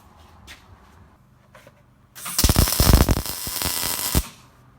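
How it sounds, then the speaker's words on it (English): A welder lays a bead on a weld-on beadlock ring around a wheel, producing a loud, crackling hiss that starts abruptly and holds for about two seconds before cutting off, with quieter rustling before it. "before I weld it."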